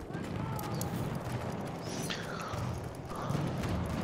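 Hooves clip-clop from a galloping horse in the World War I shooter Battlefield 1, a rhythmic thudding under ambient battlefield noise with a faint whinny-like tone.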